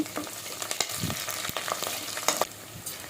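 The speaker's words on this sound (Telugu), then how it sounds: "ఇలా ఫ్రై అయిన తర్వాత పచ్చిమిర్చిని వేసుకొని ఒకసారి కలుపుకొని" Green chillies go into frying onions for a meal maker and potato biryani base and are stirred, producing an irregular crackling sizzle with quick spoon scrapes and taps near the pan.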